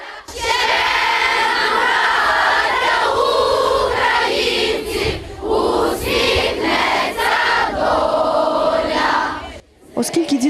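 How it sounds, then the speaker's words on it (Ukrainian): A large crowd of children sings together outside a school, one voice starting and the rest joining in loudly, with chanting swells and a brief pause near the end. "У великому натовпі дітей хтось починає співати, а решта підхоплює."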